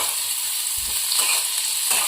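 Onion and tomato fry together in a pan for Kolhapuri misal, a continuous close sizzle with faint stirring scrapes and no voices.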